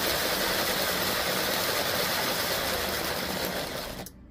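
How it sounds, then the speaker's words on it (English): A 474 wheeling vehicle's electric motor runs in reverse with a loud, steady close whine and hum that holds evenly before cutting off near the end. "There's a little hesitation in the response of the motor there."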